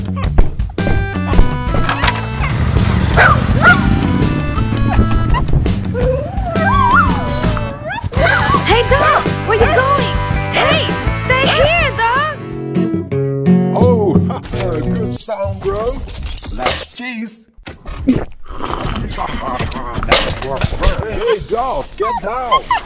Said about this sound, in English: Bad dog. Oh, damn it. Go away, dog.